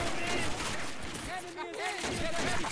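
Gunfire rattles in a battle in the Men of War: Assault Squad 2 video game, with a dense burst of shots under an excited voice during a fight at Tirad Pass.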